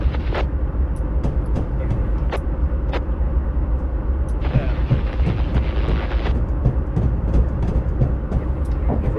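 A Clinchfield Railroad coal train near Dante runs in Train Simulator 2019, with a steady, loud locomotive rumble, scattered clicks and clanks from the rails and a brief hissing swell in the middle.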